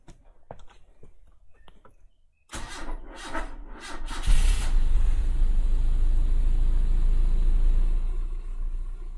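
A Toyota KE70 Corolla engine, freshly given an oil change, cranks over after a few quiet clicks, catches and settles into a steady, smooth idle that stays loud and close for the rest of the time with no talking.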